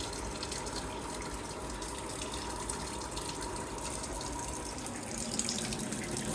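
Water running from a kitchen tap fed by a Worcester Bosch compact combi boiler with a faulty secondary heat exchanger, a steady close hiss of flowing water for several seconds.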